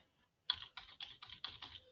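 Keys clatter on a computer keyboard in a quick burst of about six close, crisp strokes after a brief quiet start.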